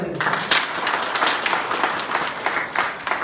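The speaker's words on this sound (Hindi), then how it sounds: "मैं चाहूंगा दिल से आप भी एक बार जोरदार तालियां बजाएं" Loud, sustained applause from a seminar audience in Gairsain, Uttarakhand: dense clapping with rhythmic surges, close and full, with a few voices mixed in.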